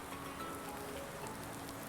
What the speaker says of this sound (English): If it's raining now, it's going to rain for a while yet.